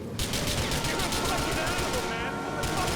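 Dense automatic gunfire from the video game GTA IV rattles continuously in rapid bursts, loud and close, with a voice talking over the shooting.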